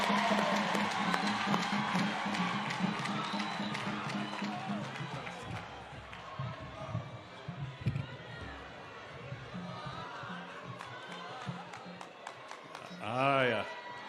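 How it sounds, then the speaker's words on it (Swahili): A church congregation at a service claps and cheers, a dense, lively wash of applause and crowd noise at moderate distance, fading gradually while voices carry over it. "Tupigeni makofi."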